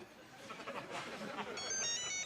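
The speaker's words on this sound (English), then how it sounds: "Oh, it is the phone again. Phones ring, don't they?" A telephone rings in short, bright electronic tones near the end, quiet behind some light chatter and laughter in a room.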